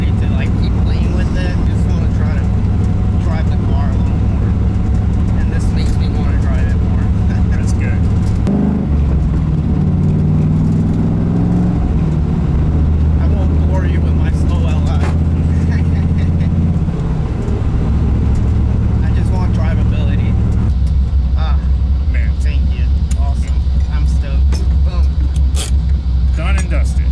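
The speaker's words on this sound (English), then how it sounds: "test drive went well. Car ran perfect, cooled great, came back to idle every time." An LS-swapped Nissan 240 engine runs on a test drive, a steady low rumble with a shift in pitch midway as it changes pace, heard close from inside the car with people talking over it.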